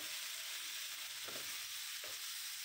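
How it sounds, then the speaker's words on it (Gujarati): Sago khichdi mixture stirred in a frying pan, a soft steady sizzle with two faint scraping strokes of the spoon, quiet and close, with no talking. "હવે આપણે જે સાઈડમાં સાબુદાણા રાખ્યા હતા એ સાબુદાણાને આમાં બધું મિક્સ કરી દેવાનું છે"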